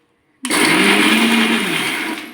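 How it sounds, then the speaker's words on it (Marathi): A mixer grinder grinding boondi switches on abruptly and runs at a loud, steady whir, grinding close by before easing slightly. "आता ही बुंदी आपण मिक्सरमधून काढू"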